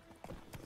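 Horse hooves clip-clop in The Witcher 3, a short run of soft, evenly spaced hoofbeats under low game ambience.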